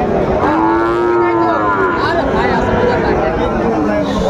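Sahiwal cattle low loudly and close by at a Comilla livestock market, one long drawn-out moo carrying over a steady crowd babble of people talking.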